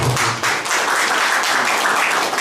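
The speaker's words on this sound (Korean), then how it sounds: "여러분 큰 박수" An audience at a Korean literary award ceremony and association founding event applauds a guest being introduced, steady full clapping filling the hall throughout.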